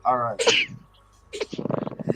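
A single sharp sneeze bursts out near the start amid tabletop role-playing game chatter, followed by people talking.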